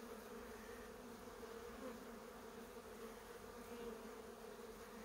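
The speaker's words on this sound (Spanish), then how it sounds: "Es que es brutal la cantidad de abejas" Honeybees drone around a very populous hive during honey-super placement before wintering, a dense, continuous buzz holding steady throughout, quiet in level and without speech.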